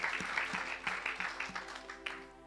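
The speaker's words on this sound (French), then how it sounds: "Clap your hand for the Lord." A church congregation at a deliverance service claps their hands for the Lord, a quick, uneven run of claps over about two seconds, fairly faint and lightly reverberant.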